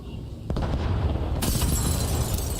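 Explosions and grenade blasts in a competitive Call of Duty match at a CDL Major in Miami: a sharp boom at about half a second, then a heavier burst followed by dense rumbling under a commentator's voice.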